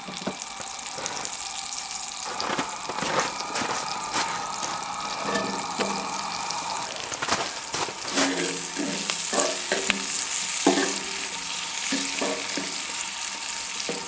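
Mushrooms and onions fry in a pan inside a heated winter tent, a continuous soft sizzle broken by repeated clinks and scrapes of stirring, close and fairly quiet with no talking.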